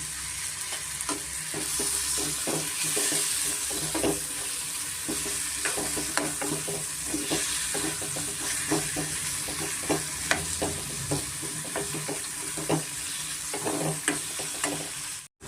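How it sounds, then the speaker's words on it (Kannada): Tomatoes frying in a pan for a raw peanut curry, a steady sizzle with frequent stirring scrapes and clicks, close and continuous with no talking. "ಟೊಮೆಟೊ ಒಂದು ಸಾಫ್ಟ್ ಆಗಿದೆ ನೋಡಿ ಚೆನ್ನಾಗಿ ಫ್ರೈ ಆಗಿದೆ"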